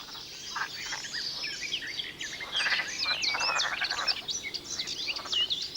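A chorus of green frogs just out of hibernation at a pond or lake, many overlapping chirping croaks calling continuously and fairly close, with no talk.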